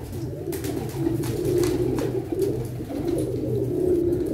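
Teddy pigeons cooing in a loft, a continuous low warbling coo from several birds close by, steady and unaccompanied by speech.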